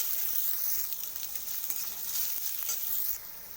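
Chopped garlic and ginger, added with onion, fry in a pan with a steady, bright sizzle that holds throughout, with a few light stirring scrapes close by.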